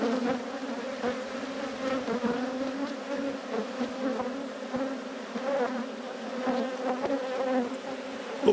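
Honeybees humming steadily around an open hive frame full of pollen, brood and honey, a dense close buzz with no gaps and individual bees flicking past now and then.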